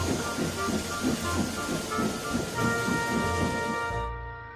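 A steam locomotive puffs quickly, rumbling with rhythmic chugging and tonal hums over steady noise, fading toward the end.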